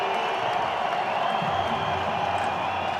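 Football crowd at Sun Bowl Stadium during a UTEP vs ULM game, a steady dense roar of voices with faint scattered cheers, loud and continuous throughout, no distinct announcer voice on top.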